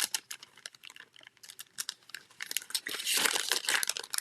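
Papery crinkling and crackling as the backing is peeled off a card decoration, starting with small ticks and building into a dense, loud crackle near the end, close up and without voices.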